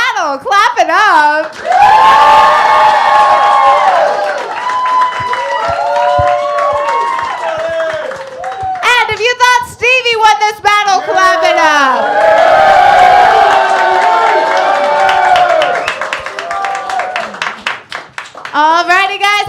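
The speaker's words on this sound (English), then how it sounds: "Audience, if you thought Sonny won this battle, clap it up" A live roast-battle audience claps, cheers and whoops in loud rolling waves, with shouting voices rising above the crowd noise throughout.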